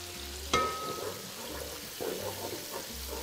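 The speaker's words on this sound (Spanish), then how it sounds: "Vamos cocinando, que se integre un poquito el tomate." Tomato sauce with sofrito simmers quietly in a pan for pollo a la riojana, giving a faint, low sizzle with an early utensil clink and a few soft stirring scrapes.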